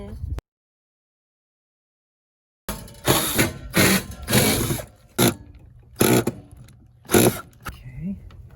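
A cap is screwed onto the propane line of an RV during a fridge upgrade, heard as a series of close, uneven ratcheting and scraping bursts after a brief silence.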